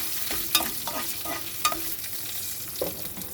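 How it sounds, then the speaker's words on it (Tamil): Dried red chilies sautéing in oil for a mushroom gravy, a close, even sizzle punctuated by several light spatula taps and scrapes. "அதை நல்லா எண்ணெயில் கொஞ்சம் நேரம் வதக்கி விட்டுப்போம்"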